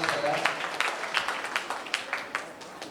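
A short burst of applause from a quiz audience in a hall, scattered claps that thin out and fade toward the end, heard from a moderate distance.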